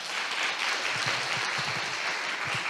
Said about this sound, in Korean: 박수 한번 나와야 되는 거 아니에요?